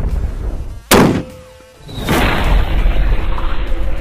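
An explosive anti-tank bullet is fired into a ballistic gel torso, giving one sharp, loud blast that fades, then a second broad roaring burst that lingers as a sustained noisy rush.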